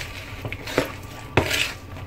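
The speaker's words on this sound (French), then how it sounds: "vous touillez un peu" Fish in tomato sauce stirred in a pot: a few distinct clinks and scrapes of a utensil against the metal, spaced irregularly and close by, with no one talking.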